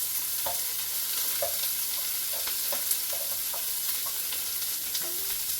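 Onions sizzling in a pan of seared meat in a Ninja Foodi XL, a steady close fry with light scraping stirs at irregular intervals, no voices.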